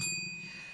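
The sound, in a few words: small bell rung in a radio studio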